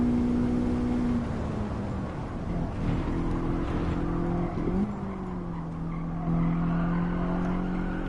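A car drifting in Gran Turismo 7 during a daily race at Suzuka East, its tires squealing in long sustained tones over a steady engine drone, with the pitch wavering as the slide continues for several seconds.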